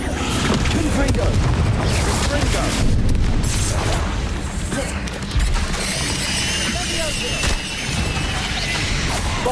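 Confringo fire spell explosions in Hogwarts Legacy on the Nintendo Switch: loud, repeated booming blasts and crashes over nearly ten seconds, layered into dense, continuous combat noise.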